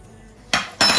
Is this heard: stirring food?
yes